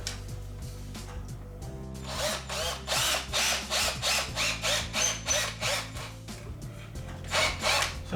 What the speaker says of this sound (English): So I'll probably drill here